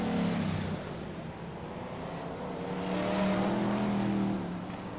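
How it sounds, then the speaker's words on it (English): BriSCA Formula 1 stock cars roar past on the Kings Lynn oval, a steady loud engine drone that swells as the pack comes through, with a commentator's voice faintly underneath. "as the rest of the cars come through"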